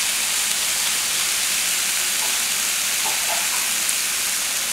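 Water hits vegetables frying in sesame oil in a shrimp stir fry and gives a steady, broad sizzling hiss of steam that runs evenly throughout, fairly close and alone.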